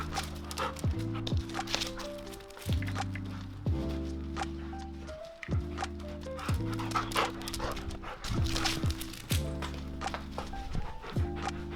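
Several dogs panting and barking eagerly while playing fetch with a ball, close and loud in repeated bursts, with heavy breathing running between the barks.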